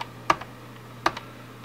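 Two distinct clicky key presses on a Logitech G710+ mechanical keyboard with Cherry MX Brown switches, spaced under a second apart, close and crisp against a faint hum.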